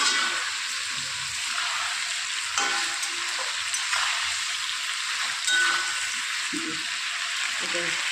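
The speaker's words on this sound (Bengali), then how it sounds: "চিকেন আলু একসাথে ভেজে নিচ্ছি" Chicken pieces and potatoes sizzle together in a hot pan for a chicken kosha, a steady close crackling hiss with occasional stirring knocks and faint background voices.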